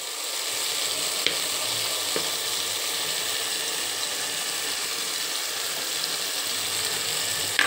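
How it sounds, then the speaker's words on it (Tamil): Chopped tomatoes with a pinch of asafoetida sautéing in hot oil for kara kulambu, giving a steady, dense sizzle throughout, with a couple of faint clicks from a spoon against the pan. "இப்போ தக்காளியோட பச்சை வாசனை போகிற அளவுக்கு ஒரு 2 நிமிஷம் நல்லா வதக்குங்க."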